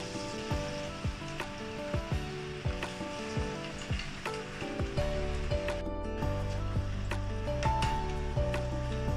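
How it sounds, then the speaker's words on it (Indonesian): Steady crackling sizzle of masala vadai frying in hot oil, continuous and close, with clinking utensil taps and a low musical drone running underneath. "sekarang kita dah boleh mula goreng, so kita letak satu demi satu lah"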